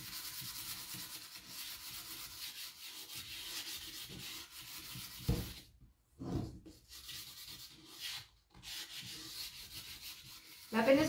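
Sandpaper rubbed by hand over a wooden Turkish tray, a steady close raspy scrubbing that runs continuously, then breaks into short strokes separated by brief pauses near the end.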